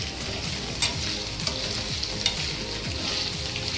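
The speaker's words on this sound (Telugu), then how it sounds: "గోల్డెన్ కలర్ వచ్చే వరకు బాగా వేయించుకోవాలి" Paneer pieces fry in hot oil, giving a continuous close sizzle with occasional spatula stirs and light clicks against the pan; no one speaks.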